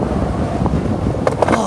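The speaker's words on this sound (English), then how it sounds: "Oh, dude, can you guys hear the wind?" Strong outdoor wind buffeting the microphone, a continuous low roaring rumble with a few brief gusty surges near the end.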